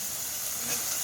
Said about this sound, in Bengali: আগে ছোলাগুলো ভেজে নেই।